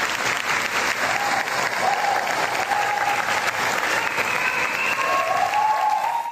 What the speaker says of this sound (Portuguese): Recepcionada e aplaudida de pé.